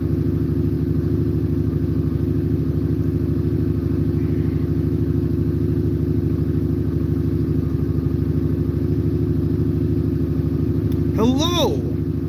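A motorcycle engine idling steadily at half choke in a home garage, a constant low throbbing hum that holds even for the whole stretch, with a brief higher chirp near the end.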